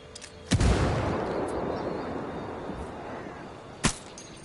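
Frag grenade blast in the tactical shooter Ghost Recon Wildlands, a sharp loud detonation followed by a long rumbling decay, with a second sharp crack near the end; no talking.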